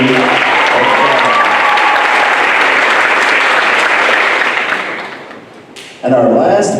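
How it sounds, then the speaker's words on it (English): Audience applause fills a school band Christmas concert hall, a dense sustained clapping that fades toward the end before a fresh loud burst breaks out. "We got a clap for you."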